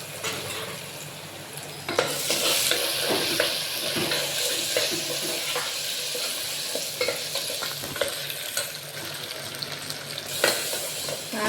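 Potatoes sizzle and fry in hot ghee, with a spoon stirring and scraping the pan at a steady pace close by.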